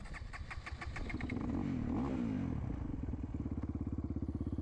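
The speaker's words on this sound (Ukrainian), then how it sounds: "Сідаю на моторку і зараз побачимо, чи заведеться." KOVI 300 PRO S motorcycle engine cranking and catching, settling into a loud, steady, rapid idle pulse close by, with no talk over it.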